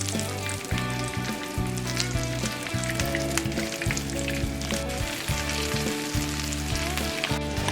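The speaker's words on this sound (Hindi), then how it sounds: "इसको हम क्रिस्पी होने तक अच्छे से फ्राई कर लेंगे" Stuffed brinjals frying in a pan until crisp, a loud, dense, continuous sizzle with bubbling crackle and occasional stirring noise, steady throughout.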